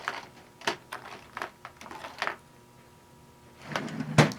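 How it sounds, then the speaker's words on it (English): Rummaging in a sewing machine accessory drawer for a presser foot: scattered small plastic clicks and knocks spread out irregularly, ending in a louder rattling clatter close by. "now I'm going to find a foot in my machine drawer here."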